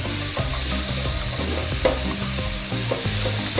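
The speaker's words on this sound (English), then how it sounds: "We're gonna fry it" Shallot frying in hot oil over lowered heat, a continuous close sizzle broken by repeated stirring scrapes and clinks in the pan, with no voices.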